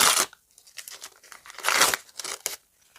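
A paper surprise packet torn open up close: crackling rips and crinkling bursts in several quick pulls, with quiet pauses between.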